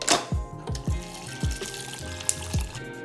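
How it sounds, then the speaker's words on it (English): Water pours into a glass holding two ice cubes, giving several sharp clinks and knocks of the ice over a steady close trickle, with no one speaking. "I'm gonna add 2 ice cubes and some water to it."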